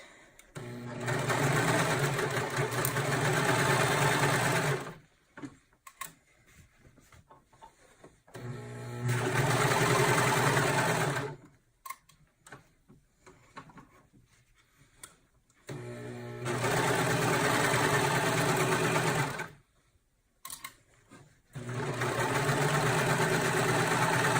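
A sewing machine stitches the seams of a fabric car trash bag in three long steady runs, each a few seconds of continuous mechanical whir, separated by quiet pauses with faint handling noise.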